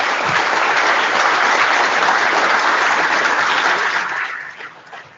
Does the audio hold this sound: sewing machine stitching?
no